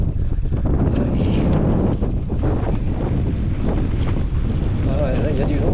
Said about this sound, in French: Ah ouais, là il y a du vent là.